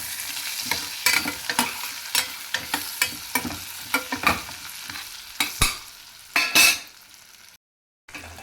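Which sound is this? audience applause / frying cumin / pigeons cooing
frying cumin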